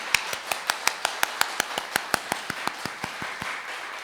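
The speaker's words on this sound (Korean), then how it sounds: "우리 좋으신 하나님께 우리 감사의 박수 드릴까요?" A church congregation claps in unison in a steady, brisk rhythm, about five sharp claps per second for roughly four seconds, with no voices over it.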